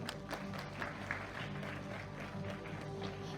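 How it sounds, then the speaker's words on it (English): An audience at a secondary school investiture ceremony applauds the guest of honor, with sustained, moderately distant clapping from a hall crowd that holds steady for the whole stretch. "A round of applause for him."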